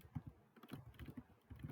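Keys clatter quietly on a faulty computer keyboard during programming, a faint, irregular run of close soft taps and clicks.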